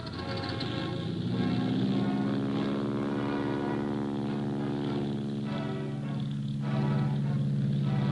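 Early propeller biplanes with wire-braced frames drone steadily and loudly in flight, a continuous engine hum with slight swells and no voices.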